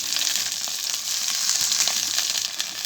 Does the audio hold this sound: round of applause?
no